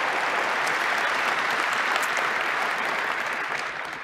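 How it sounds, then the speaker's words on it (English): A keynote crowd at a CNCF gathering gives a round of applause for EY and Hitachi, dense continuous clapping from many people that stays loud and fades slightly near the end. "a quick round of applause for EY and Hitachi"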